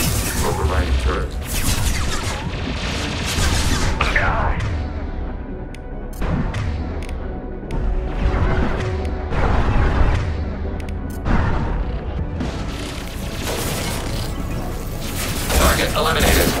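An overridden turret fires in a Mass Effect 2 combat scene: dense, continuous bursts of mechanical gunfire and booming impacts run unbroken throughout, loud and close, with a synthetic voice announcing alerts.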